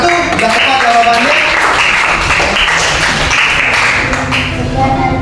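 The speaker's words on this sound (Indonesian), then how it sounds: "Tepuk tangan untuk kelompok 1." A classroom group applauds group 1 with a burst of mixed clapping and cheering voices, loud and close, sustained across the moment.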